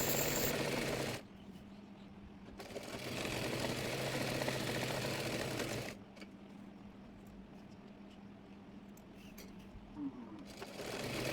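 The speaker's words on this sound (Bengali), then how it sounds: "এবার নিচের মুড়িয়ে সেলাই করে নেব।" Sewing machine stitching the folded hem of a petticoat, a continuous mechanical whir that drops in level for stretches and resumes, running steadily throughout with no talk.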